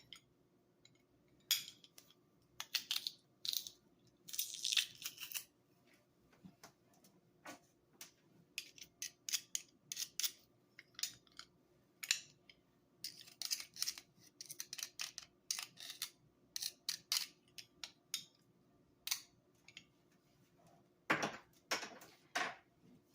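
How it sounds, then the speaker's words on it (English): Garlic cloves are peeled and then crushed in a metal garlic press, giving many sharp, close clicks, squeezes and clacks in irregular bursts, with quiet pauses between them and no talk. "Just peeling the garlic, and now with the garlic press."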